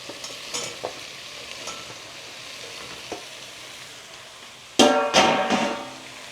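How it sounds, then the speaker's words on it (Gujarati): Ridge gourd drops into hot, sizzling masala in a pan: a few light crackles and stirring taps, then a sudden loud burst of sizzling that keeps spitting and hissing up close. "હવે આપણે નાખી દઈએ આમાં તુરિયું"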